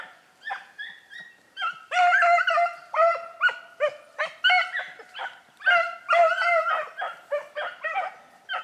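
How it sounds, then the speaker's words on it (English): Two beagles bay and bark excitedly in rapid, overlapping bursts while chasing a rabbit at a moderate distance, their calls rising and falling in pitch. "you can hear them both barking"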